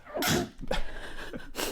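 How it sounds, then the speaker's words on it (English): A single sharp sneeze bursts out close to the microphone, preceded by a quick inhale, followed by a second brief breathy burst. "I'm about to sneeze"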